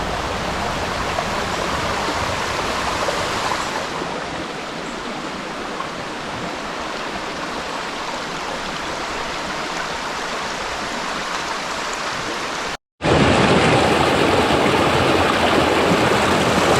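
A full river rushes over rocks beside a pool in the Balandra forest, a loud, steady broadband roar with no voices, briefly cutting out before resuming.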